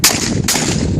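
A shotgun blast outdoors at a casual backyard shooting game, with two loud, sharp reports about half a second apart and a broad noisy tail between and after them.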